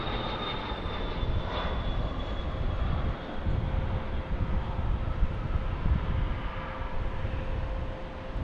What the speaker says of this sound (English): Meanwhile, an older Dassault takes off right there.